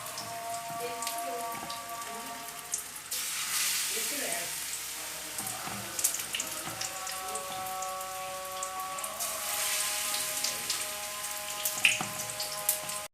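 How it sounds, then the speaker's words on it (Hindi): Egg kebab patties coated in gram flour batter sizzle in hot oil, a dense crackling hiss that swells as more patties go in, close and continuous. "तो सबसे पहले हम बेसन में डिप करेंगे, फिर ऑयल में डालेंगे इस तरीके से।"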